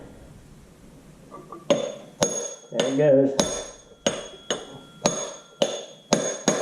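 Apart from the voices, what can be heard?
hammer pounding drift pin into tractor PTO drive gear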